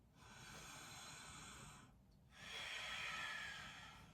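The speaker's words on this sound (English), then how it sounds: "Ujjayi breath here" Ujjayi breathing during a yoga flow, a slow, audible oceanic hiss of breath drawn in through a narrowed throat, a long exhale followed by a brief gap and another steady breath, soft and close.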